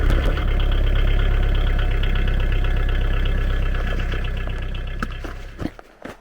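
A Kioti tractor's diesel engine rumbles steadily up close as it backs away from a lifted snowblower loader frame, then dies down near the end as a few clanks and knocks follow.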